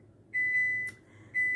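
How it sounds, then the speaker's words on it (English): A kitchen oven sounding its timer: a few clear, high electronic beeps in a short series, separated by brief gaps, in an otherwise quiet room. "My oven is beeping."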